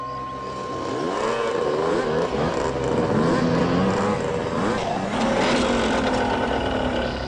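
Several motorbikes arrive together, their engines revving and droning loudly at close range, rising and falling continuously with no talk over them.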